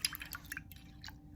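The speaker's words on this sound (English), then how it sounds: "once your sky is all done, you'll want to rinse out your brush." A paintbrush swishes and rinses in a square tub of water, giving faint scattered drips and small splashes, quiet and close with no talking.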